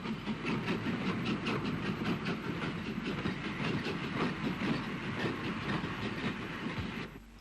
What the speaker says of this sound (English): Another WT with a Dublin-bound train speeds through the maze between Lisburn and Lurgan.